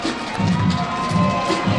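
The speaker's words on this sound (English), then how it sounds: "The crowd is cheering, and the players are cheering" Crowd and players cheering at a high school football game between Mt Zion and Morrow, a steady loud roar of many voices with shouts throughout.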